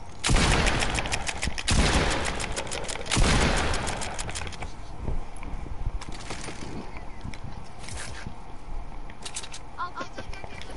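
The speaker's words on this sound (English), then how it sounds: "You gotta press your reload button and your shooting button at the same time very fast" Rapid bursts of shotgun blasts from a video game, fired by mashing reload and shoot together; loud repeated booms cluster early, then thinner shots and game noise continue under talking.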